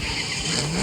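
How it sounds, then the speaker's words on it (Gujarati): Short burst of a car engine revving in a video game, loud and close, rising in pitch over under a second. "ગાડીનો અવાજ જોરદાર છે"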